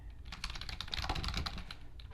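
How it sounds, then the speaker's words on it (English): Rapid typing on a computer keyboard, a dense stream of close, quiet key clicks with no voices. "So let's just type a bunch of gibberish here."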